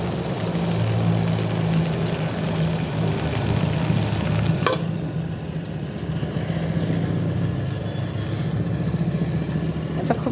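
Chicken pieces frying in a pan in a home kitchen, giving a steady, dense sizzle that continues for about ten seconds, with a faint clink partway through and no talking.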